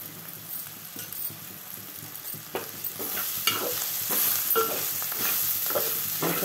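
Spices and ginger frying in a pan for dondakaya (ivy gourd) curry, a continuous crackling sizzle with spatula stirring and scraping, close and steady, growing slightly louder toward the end.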